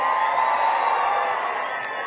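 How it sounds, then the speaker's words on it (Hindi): A crowd at a BJP election rally in Terdal roars and cheers in a dense, sustained wash of voices that fades slightly toward the end, with no single speaker standing out. "नायब सिंह के लिए ताली बजाओ"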